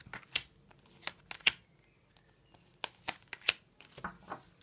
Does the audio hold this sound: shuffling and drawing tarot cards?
yes